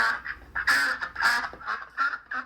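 Several ducks quack in quick, loud nasal bursts close by, a short run of repeated calls with no talking over them.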